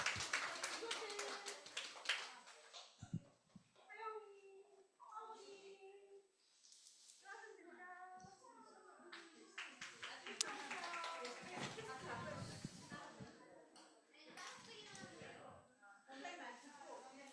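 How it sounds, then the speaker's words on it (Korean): Children clap together during a church children's worship service, a burst of sharp claps near the start, with an adult talking over and after it. "우리 박수 쳐줄게요."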